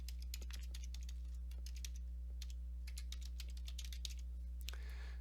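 Typing on a computer keyboard while working in presentation software. Quick, close keystrokes tap out in an irregular run over a steady low electrical hum, with no talking.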